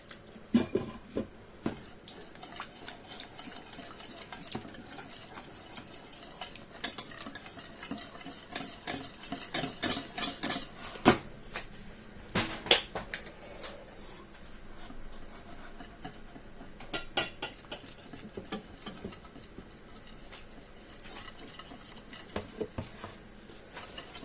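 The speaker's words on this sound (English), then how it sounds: "Keep whisking" A whisk stirs cheese sauce in a pan, with rapid scraping and clinking strokes in bursts, fairly quiet and close, with no talking.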